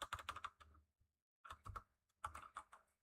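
Rapid clattering keystrokes on a computer keyboard come in two quick bursts separated by a short pause, close and fairly quiet.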